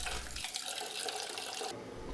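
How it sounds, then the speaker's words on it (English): Rice being washed in a rice cooker pan under a running kitchen tap: a steady, close rush of water that continues without talk, then thins out near the end. "wash your rice."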